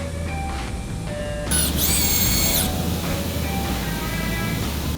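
A surgical drill bores through the center of a dog's tail vertebrae during a tail transplant operation, giving a whirring mechanical buzz with a louder, higher-pitched burst partway through and continuous motor hum underneath.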